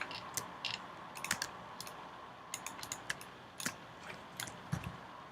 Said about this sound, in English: I'm using the arrow keys,